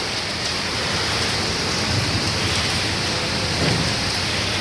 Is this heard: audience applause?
no